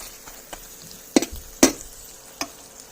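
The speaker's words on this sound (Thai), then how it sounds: "แล้วก็ผัดไปเรื่อยๆนะคะเพื่อนๆใช้ไฟ ไฟกลางนะคะ ไม่ต้องใช้ไฟแรงนะคะ" Salmon stir-fried in a pan over medium heat, with a soft background sizzle broken by a few distinct clicks and scrapes of a utensil against the pan, close up and with no voices.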